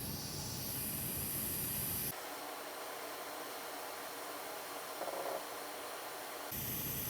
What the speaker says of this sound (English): Let's apply hot air one more time.